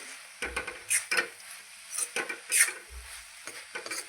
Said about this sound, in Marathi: शेंगदाण्याचे कूट छान मिक्स करून घेतल्याच्या नंतर